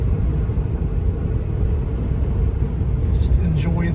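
2006 Toyota Tundra pickup climbing a hill, a steady low engine and road rumble heard from inside the cab, with a faint higher chirp near the end.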